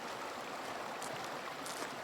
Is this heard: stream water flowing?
yes